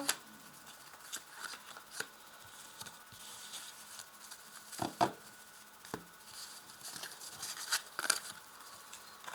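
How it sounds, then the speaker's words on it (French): Tarot cards are drawn and laid down, a run of quiet, close slides, flicks and taps of card stock, uneven in rhythm, with no talking. "Je tire 3 cartes"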